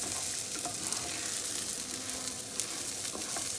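Rice and vermicelli being toasted together in a pan for Turkish pilaf, a continuous soft sizzle and crackle with faint stirring scrapes, heard alone without speech.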